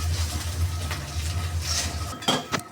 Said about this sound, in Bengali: একটু মশলাটাকে ভালো মতো নেড়ে চেড়ে একটু কষিয়ে নেবেন